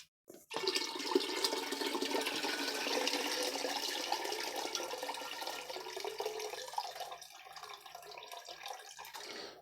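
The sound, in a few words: rinsing kale under running water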